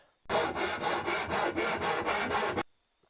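Close, steady rasping strokes of a file across timber, about nine quick back-and-forth passes in a continuous run, then silence.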